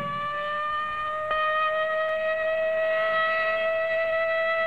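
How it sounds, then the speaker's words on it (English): A civil defense siren sounding in a practice drill holds a steady, sustained wail with rich harmonics, fairly far off and even in level, with a brief click partway through. "But tomorrow, this siren may mean the real thing."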